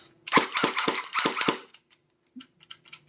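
A GFAP13 electric airsoft pistol fires a rapid automatic burst of sharp cracks that lasts about a second and a half, then falls silent with a few faint clicks as the gun stalls.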